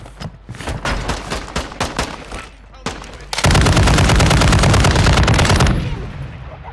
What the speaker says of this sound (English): can you hear those shots?